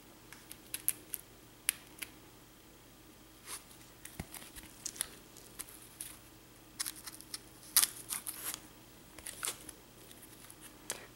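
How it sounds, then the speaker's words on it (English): Quiet, irregular scratchy slicing and crinkling as a knife cuts packing tape on a cardboard comic book box, short bursts with brief pauses, close up and soft, no voices. "Whenever you cut the tape, always make sure you cut on the cardboard part."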